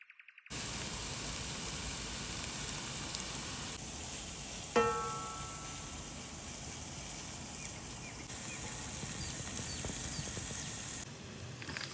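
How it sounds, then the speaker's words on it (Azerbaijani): Parsley and garlic frying in oil for an Azerbaijani kebab dish, heard as a steady, even sizzle with a brief clink partway through. "Cəfəri ilə sarımsağı qəşəngcənə yağda qovururam."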